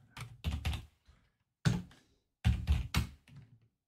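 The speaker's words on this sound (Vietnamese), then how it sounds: "đây mình đang dùng cái bàn phím nữa." Typing on a computer keyboard while writing .NET code in Visual Studio, heard as close, crisp bursts of keystrokes separated by short pauses, with a few single heavier key taps.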